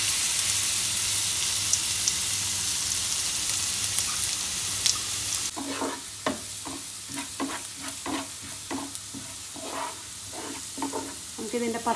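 Crushed ingredients drop into hot oil for a chicken-curry-style cauliflower masala. A steady background hiss gives way to loud, bubbling sizzling and spattering crackles, with stirring scrapes and no talking.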